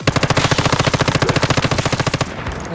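Rapid automatic gunfire blasts in the survival shooter video game Once Human, a loud, tightly spaced burst of shots lasting about two seconds before cutting off into a brief echoing tail.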